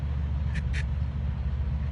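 A quick pair of duck-call clucks, fairly faint and close together, heard over a constant low rumble.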